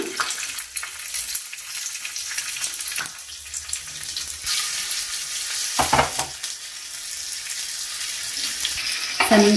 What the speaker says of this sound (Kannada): ಚೆನ್ನಾಗಿ ಬೇಯಲಿ ಬ್ರೌನ್ ಕಲರ್ ಆಗಲಿ ಸ್ವಲ್ಪ